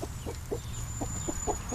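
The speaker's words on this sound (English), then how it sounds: "Stupid roosters." Roosters and chickens cluck in a quick, uneven series of short notes close by, over a low steady background hum.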